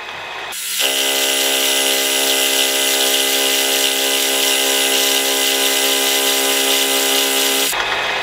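A machine cuts a one millimetre chamfer on a metal part for a quick change tool post, a loud, even, high whine that starts suddenly, holds steady for about seven seconds, then stops.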